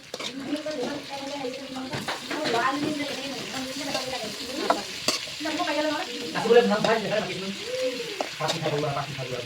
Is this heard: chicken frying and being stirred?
yes